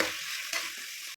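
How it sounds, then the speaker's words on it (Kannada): Onions and tomatoes sizzling in a hot pan as they are stirred for Karnataka-style coconut rice: a steady, close sizzle with a brief scrape midway, no talk. "ನೀಟಾಗಿ ಮಿಕ್ಸ್ ಮಾಡ್ಕೊತಿದ್ದೀನಿ."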